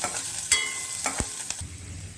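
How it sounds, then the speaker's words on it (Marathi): Curry leaves hitting hot oil with mustard seeds and cumin in a pan for a ridge gourd stir-fry, giving a steady low sizzle with a few sharp crackling bursts and a faint stirring scrape. "आधी कढीपत्ता टाका तुम्ही जिरे मोहरी झाल्यानंतर छान परतून घेऊया"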